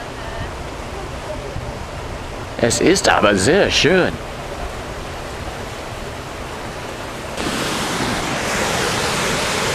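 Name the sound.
rushing river water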